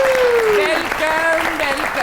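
Studio audience applause on a Pakistani television comedy talk show as a guest is welcomed: a dense, loud wash of clapping running throughout beneath music and a host's voice.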